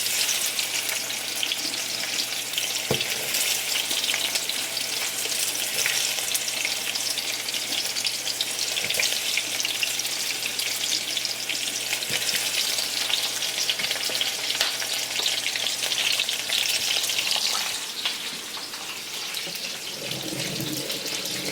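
Onion sautéing in a pan for a potato noodle dish, a steady close sizzle of frying with occasional stirring clicks and a brief watery clatter near the end.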